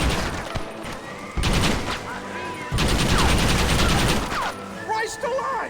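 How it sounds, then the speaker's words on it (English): Heavy volleys of gunfire crack in the video game Red Dead Redemption, loud bursts of rapid shots with short pauses between, under shouting voices. "For Christ's sake, John, start shooting!"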